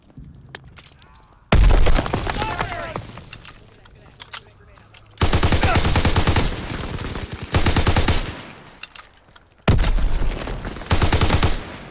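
Grenade blasts and rattling automatic gunfire from a World War II shooter game, Call of Duty WW2, come in loud dense bursts separated by short quieter gaps, with talk between them.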